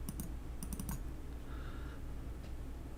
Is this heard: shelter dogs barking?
no